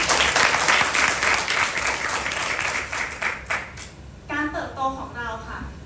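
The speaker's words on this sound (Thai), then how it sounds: "ขอเสียงปรบมือให้หน่อยนะคะ" Applause rings out from an audience at an insurance career seminar, a full burst of clapping that thins over about three seconds before a voice carries on alone.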